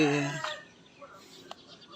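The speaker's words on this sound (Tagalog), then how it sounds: "Meron tayong mga alaga dito, mga manok." Chickens clucking and a rooster-like call near the start, followed by softer scattered clucks over faint outdoor background noise.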